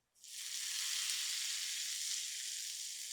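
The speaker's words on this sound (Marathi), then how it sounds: "मस्त चरचरीत फोडणी बसली" Mustard seeds crackle and sizzle in hot oil for a tempering, a sudden loud frying hiss that starts abruptly and holds steady without talking.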